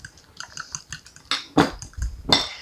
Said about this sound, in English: We're going to finish whisking this together